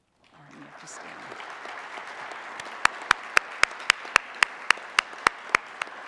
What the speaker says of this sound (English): please stand so we can applaud you one more time